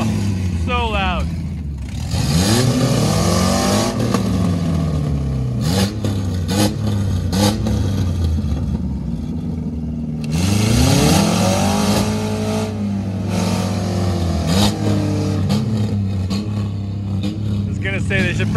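A Chevrolet car engine revs loudly and roars nearby, rising and falling in several strong pulls over a continuous rumbling idle, with people talking over it.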